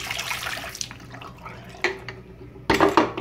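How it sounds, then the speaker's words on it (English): Water poured out of a film developing tank during 35mm film development, a brief splashing gush near the start, then quieter trickles and a second louder pour burst near the end, close and alone. "pour out the water."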